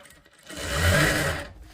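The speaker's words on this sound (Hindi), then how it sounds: "अब हम इस पे सिलाई लगा लेते हैं।" A sewing machine runs a single continuous stitching pass on the back piece of a katori blouse, gathered with pleats. The motor hums up from quiet, stays loud and steady for about a second, then winds down, with no talking.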